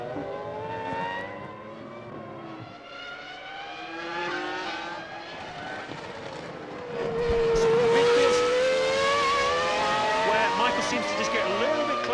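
Formula One cars race at Interlagos in the 2001 Brazilian Grand Prix, their engines whining steadily as they climb a hill, with pitch shifts and a louder surge partway through, under a commentator's talk.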